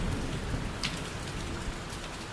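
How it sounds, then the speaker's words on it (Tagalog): Steady rain falls continuously on a surface, a dense even patter close by with no voices. "Umuulan na naman."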